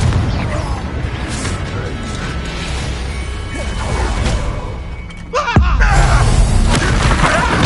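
The Confringo fire spell from Hogwarts Legacy goes off with whooshing magic and a sharp, loud boom near the end, over continuous game combat noise.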